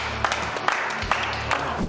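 An audience applauds at a live Tinder-style dating show, a dense, steady wash of clapping with a few sharper claps standing out through the short burst.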